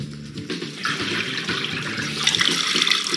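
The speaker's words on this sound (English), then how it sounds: "pour them into this cylindrical little spiral spout here" Luminol and hydrogen peroxide solutions pour into a cylindrical spiral spout, giving a steady close splashing and trickling of liquid that runs continuously and grows slightly brighter toward the end, with no talking.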